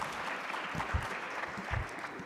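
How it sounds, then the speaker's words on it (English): Audience applause at the official launch of the 2023 Population and Housing Census, a quiet, steady patter of clapping from a crowd heard at some distance, with a few louder low thumps. "Another round of applause for our chairman."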